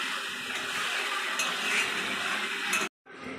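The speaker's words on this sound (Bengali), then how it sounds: "এখন 5 থেকে 10 মিনিট কষিয়ে নেব।" Boiled mutton sautéed and stirred in a pan, a close, continuous sizzling hiss with soft scraping and stirring motions, cutting off abruptly near the end before resuming.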